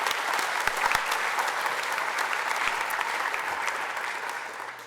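Steady applause from an audience at a high school career and technical education awards ceremony, a dense even patter of many hands that slowly tapers off toward the end, with no talking over it.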